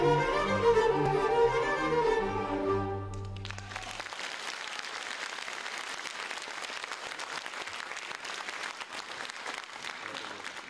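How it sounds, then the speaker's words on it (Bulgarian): An audience claps for young children after a school holiday concert of Bulgarian songs; singing with instrumental backing ends, then dense, steady applause fills the hall for several seconds. "Моля за още аплодисменти за тези малки прекрасни деца."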